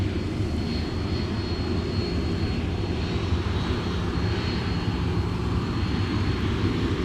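An airliner arriving at MSP airport in winter, a steady broad roar of engines held at constant loudness throughout, with a faint high whine riding above the rumble.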